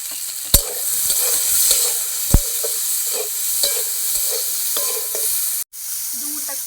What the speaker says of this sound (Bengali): ডুমুরগুলো হালকা ভেজে নেবো, সিদ্ধ করা আছে, অল্প ভেজে নেবো